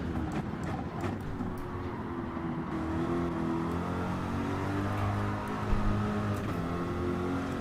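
A Corvette race car on medium tyres in Gran Turismo 7 during practice, its engine droning and revving steadily with pitch rising and falling through gear changes, close and continuous throughout.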